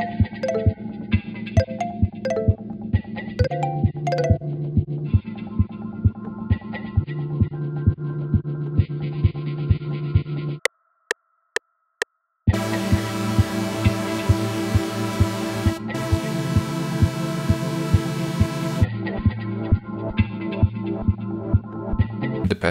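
Synth bell tones from an FL Studio plugin ring over a steady pulsing electronic beat. Repeated metallic notes run under the rhythm, with a brief drop to near silence midway before a denser, brighter section returns.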